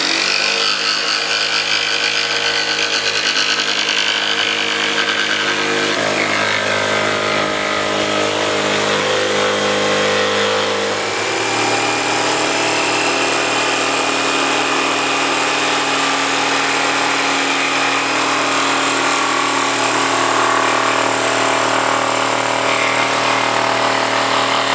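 A jigsaw cuts through a piece of wood with a continuous, loud, buzzing whine that holds steady close by, its pitch shifting slightly partway through the cut.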